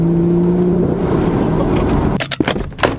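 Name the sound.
BMW M140i accelerating with straight-piped exhaust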